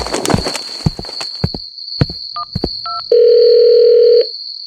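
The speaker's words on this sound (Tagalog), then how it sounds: "Tatawagan ko muna si General." Rotary or push-button telephone dialing on a landline: a few sharp clicks and short dual tones, then a steady loud dial tone holding for about a second before cutting off, with no talking.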